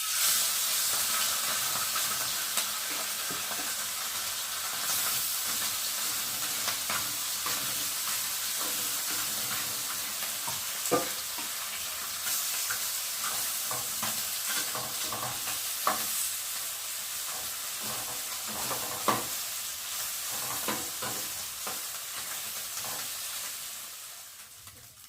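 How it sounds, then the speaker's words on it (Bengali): Morola fish frying in hot, smoking oil on a tawa, a steady close sizzle with stirring and occasional sharp spits and pops, holding for about twenty-five seconds before fading out near the end. "আর এখন আমি মোরলা মাছগুলোকে প্রথমে ভেজে নিই।"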